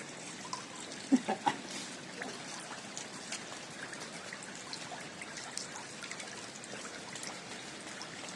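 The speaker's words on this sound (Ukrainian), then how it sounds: "Де булькає?" Water gurgling and trickling through a flooded area, a steady wet bubbling wash with a few louder splashy bursts early on, heard alone without talk.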